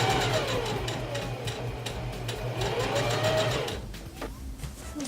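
A sewing machine runs continuously while stay-stitching a dress piece, a steady mechanical whir with rapid ticking stitches that fades slightly near the end, heard alone at close range.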